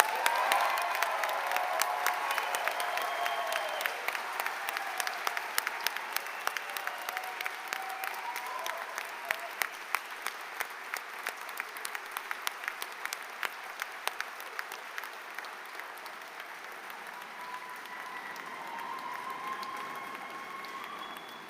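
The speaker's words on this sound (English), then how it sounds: "A rapturous, thunderous applause, I believe." A graduation ceremony crowd gives sustained, even applause for the 2026 graduates, steady and full throughout with occasional louder individual claps standing out and a few faint cheers.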